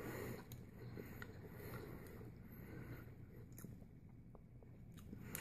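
Someone bites into and chews a crunchy banh mi sandwich on a baguette, with faint, close crackling crunches and chewing over a low rumbling background.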